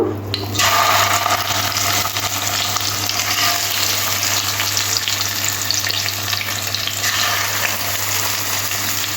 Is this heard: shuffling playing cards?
no